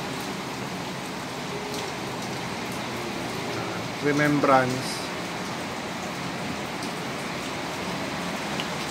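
Steady heavy rain pours throughout, a dense hiss of drops, with a brief spoken word partway through.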